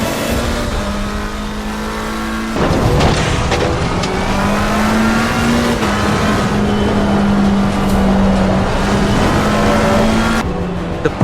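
Race cars in Assetto Corsa Competizione roar loudly and steadily, with one engine note climbing and holding through gear changes and others passing close by, plus a brief tire squeal and no talk.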